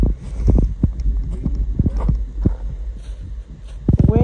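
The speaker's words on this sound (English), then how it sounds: "Wind is really blowing today too." Strong outdoor wind buffeting the microphone with low throbbing rumbles and gusty bursts, loud and close, continuous throughout.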